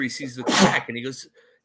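One sharp sneeze bursts out in the middle of a person's ongoing speech, close and loud, with talking on both sides of it.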